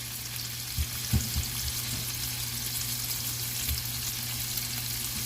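Shrimp and scallops sizzle steadily in a hot pan while being flipped for supper grits, a constant close frying hiss broken by a few soft clatters and taps as pieces are turned.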